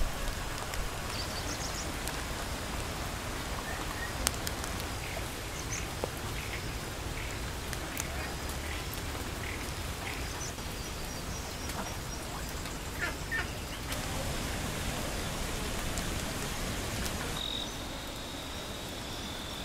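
Soft rain falls steadily over rice paddies in Sapa, Vietnam, a continuous gentle hiss with crickets chirping beneath it and no talking.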